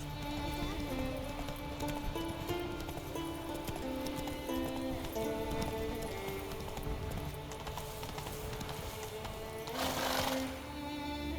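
Roach, a horse in The Witcher 3, gallops with rhythmic hoofbeats clip-clopping under game music, the pounding steady and fairly close, with a swell of sound near the end.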